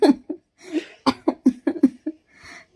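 A child imitates hiccups in a series of short, sharp voiced hics with breathy giggles between them, close and fairly loud, in a home setting.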